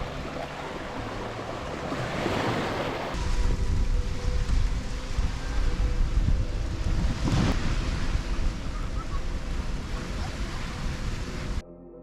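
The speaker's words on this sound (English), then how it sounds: "All you can hear is the ocean, and it's amazing." Ocean surf washing onto a beach at a calm resort in Varadero, Cuba, a steady broadband wash that swells louder after a few seconds, with wind buffeting the microphone and no talk.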